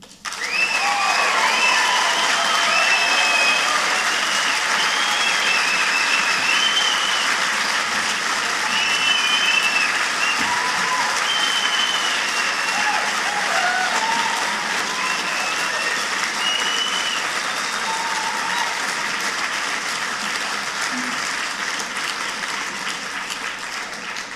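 Sustained, loud applause from a large audience after a debate speech at Reasonfest 2013, steady clapping that carries on for the whole stretch and only tapers slightly at the end.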